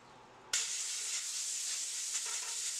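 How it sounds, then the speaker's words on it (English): Air blown through tubing to cool a plate-quenched knife, a steady broad hiss that starts abruptly and continues at an even level, fairly close. "I can also blow air through the tubing to let it cool very quickly"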